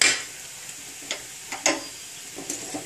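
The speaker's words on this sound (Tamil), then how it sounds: "ஒரு கலக்கு கலக்கிட்டு அடுப்பை அணைச்சிடணும்" Thick, frothing mor kuzhambu is stirred in a pot on the stove: a soft bubbling sizzle under a few scattered clinks and scrapes of the spoon, close and fairly quiet.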